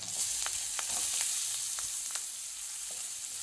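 Butter and oil crackle with chilli, ginger, garlic and onion frying in a pan, a soft steady sizzle broken by several sharp spattering pops and light stirring scrapes.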